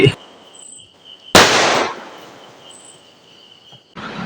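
A thirty-shot firecracker going off at night, a single sharp bang out of several widely spaced pops, loud and close, with crickets chirping steadily in the background.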